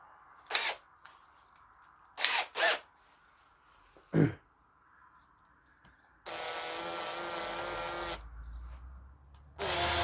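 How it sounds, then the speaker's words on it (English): A power drill runs steadily for about two seconds, boring the final tap-size hole in a metal mandrel before threading, preceded by several sharp clicks and knocks, with another brief burst of drilling at the end. "Now I'm going to go in with the drill I'm going to use to tap."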